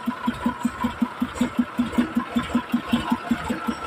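A Sonalika DI 750 tractor diesel engine in fresh condition, from 2017, idles close by with an even, rapid thumping knock repeating at a steady rhythm, loud and alone.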